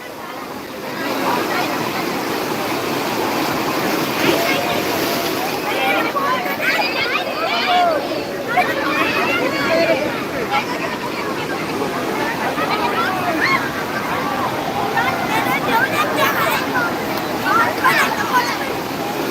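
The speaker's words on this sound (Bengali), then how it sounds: "আজ খুব ঢেউ আছে মনে হয়" Sea waves at Digha beach on a public holiday, a continuous broad roar of surf with swelling crashes, heard alongside people talking and a lively crowd on the shore.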